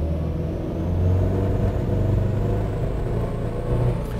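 A car engine is held at full throttle during an ignition dwell-time test run, giving a loud, sustained revving roar with a steady low rumble and slight swells in intensity, close up and with no speech.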